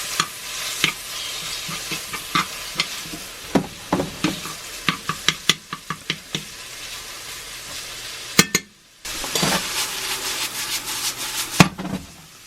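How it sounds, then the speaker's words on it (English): Hash browns seasoned with garlic powder sizzle steadily in a covered cast iron skillet, a continuous frying hiss broken by frequent sharp clicks and knocks of a utensil against the pan, with a brief lull near the end before the sizzle resumes. "I always cover my hash browns so the heat coming up will cook the potatoes"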